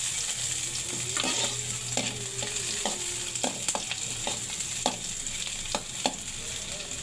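Leafy greens fry in mustard oil with garlic and onion, giving a constant sizzle under repeated scrapes and taps of a spatula stirring in the pan, close up with no talk.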